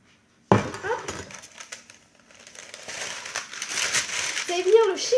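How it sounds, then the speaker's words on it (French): Parchment baking paper being crumpled and crinkled by hand while making a yogurt cake, a close, irregular rustling that runs through most of the moment alongside kitchen handling noises, with a voice briefly audible near the end. "Vous allez venir le chiffonner, donc ça va faire du bruit."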